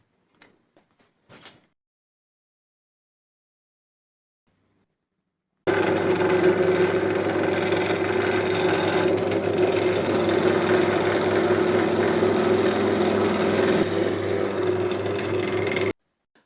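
A laburnum wood blank being drilled out on a lathe over a mandrel, a steady loud grinding whir that starts abruptly after a few faint knocks and runs continuously for about ten seconds before stopping.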